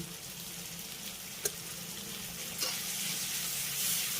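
Chopped tomato and onion fry in a pan, a steady broad sizzle with occasional scraping clicks of a spoon stirring, close and fairly loud.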